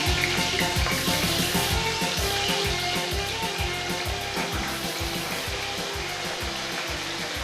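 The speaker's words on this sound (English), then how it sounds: "We will fry the zucchini till they start to become light brown" Zucchini slices for scapece fry loudly in a pan, giving a dense, steady sizzle with a rapid pulsing crackle running underneath.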